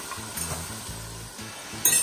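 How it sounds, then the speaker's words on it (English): Sausage being stirred into a simmering pot of dahl with salt fish, a steady scraping stir over a soft background sizzle, no talking. "So we just stir that up"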